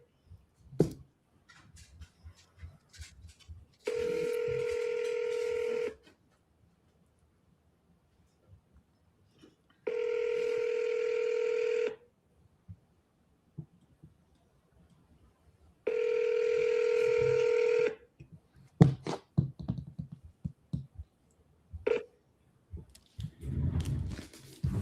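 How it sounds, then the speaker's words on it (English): A phone call to a home seller: three clear ring tones of about two seconds each, spaced evenly and separated by quiet gaps, followed by faint clicks and handling noise near the end. "you got to double dial. 3 rings, hang up, call again"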